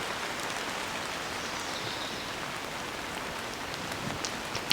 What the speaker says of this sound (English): Just standing here waiting for this rain to let up